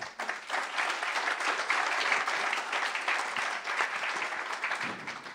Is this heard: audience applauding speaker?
yes